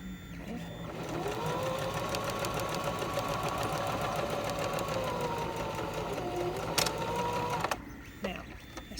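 A domestic sewing machine runs a steady, close, continuous whir while stitching a French seam in fabric, then stops abruptly near the end with a few small clicks.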